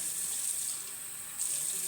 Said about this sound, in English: so I'm going to place some cold water in it.